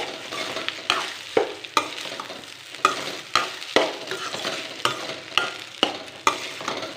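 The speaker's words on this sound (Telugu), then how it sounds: "ఈ రైస్ వేసుకొని మనం స్లోగా మిక్స్ చేసుకోవాలి" Cooked rice being mixed into a pan of lemon pulihora seasoning, with a spatula scraping the pan in regular, close strokes about every half second over a low frying hiss.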